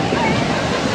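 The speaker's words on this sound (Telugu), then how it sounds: "కోనేరు నీళ్ళు ఎక్కడి నుంచి వస్తున్నాయి చూడండి" Water pours from above into a temple tank at Loddi Mallayya temple in the Nallamala forest, a loud, close, continuous splashing rush filling the brief moment.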